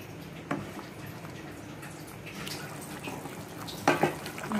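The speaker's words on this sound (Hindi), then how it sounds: "अब इस मसाले को अच्छे से पका लेंगे हम ढक के धीमी आंच में।" Masala of powdered spices and salt cooks in a covered pan over a low flame, giving a soft, steady sizzle and faint bubbling, with a couple of brief louder clinks or stirs near the start and end.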